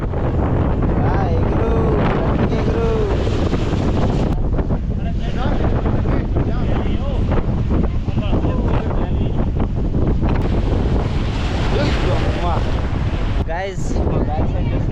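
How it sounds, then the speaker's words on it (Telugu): Sea waves wash along the shore at Rameshwaram, a loud, steady roar of surf mixed with heavy wind buffeting across the whole stretch, with voices faintly audible beneath it. "ఫుల్గా అలలు వస్తున్నాయి"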